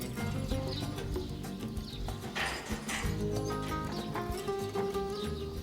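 Hispano-Arab horses walk with steady hoof clip-clops and give whinnies and snorts, with other farm animals faintly in the background.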